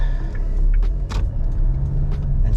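A car pulling away in second gear with its engine idling around 800 to 900 rpm, a steady low rumble inside the cabin broken by a few brief clicks and rattles, no talking.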